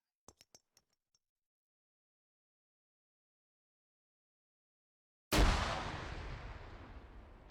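A single loud grenade blast during infantry squad training, bursting suddenly after a long stretch of silence and rumbling off in a decaying roar; a few faint sharp clicks come earlier.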